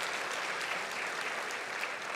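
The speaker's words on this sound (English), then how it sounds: "please give a round of applause to all our panelists" An audience at an international public health conference in Africa applauds its panel, a continuous even rush of many clapping hands, fairly distant and soft, with no speech over it.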